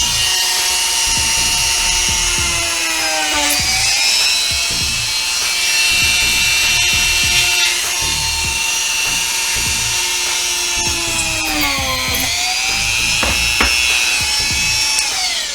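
A budget Dremel-style rotary tool whines at high speed while cutting into soft pine, a steady close shrill tone that dips briefly under load a couple of times.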